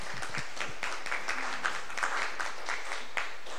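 Audience at a conference on intercultural diversity and Indigenous peoples giving sustained applause, a dense, steady wash of many hands clapping at an even level throughout.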